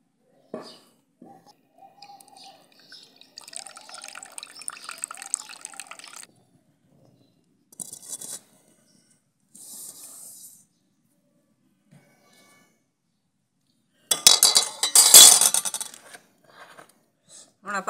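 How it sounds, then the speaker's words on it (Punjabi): Water is poured off soaked soybean chunks in a village kitchen: scattered trickles and drips come first, then a loud splashing pour near the end that fades to a few last drops, all close and with no talking. "ਇਹਨਾਂ ਦਾ ਪਾਣੀ ਕੱਢ ਦਿਆਂਗੇ ਹੁਣ ਆਪਾਂ"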